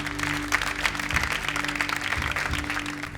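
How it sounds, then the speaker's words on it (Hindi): Loud applause and cheering from a studio audience at a televised Hindi comedy competition show, sustained and dense across the whole stretch with no voices over it. "जोरदार तालियां"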